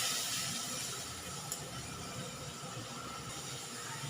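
Spice paste frying in a pan just after a splash of water, cooked down for a tilapia and gathi kochu curry, gives a steady, quiet hiss that runs unbroken throughout, with one faint tick partway.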